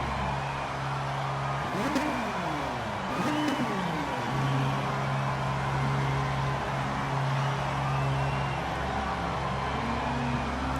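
Race car engines idling and revving together at a standing start in Gran Turismo Sport, with a steady low drone, a couple of sharp revs early on and a sustained tone near the middle, loud and continuous without talk.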